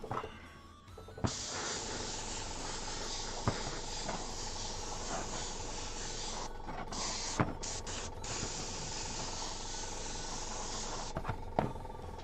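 A spray can spritzing paint onto tabletop model spaceship walls for Necromunda, heard as a long steady close hiss with brief pauses and small mechanical clicks, alone.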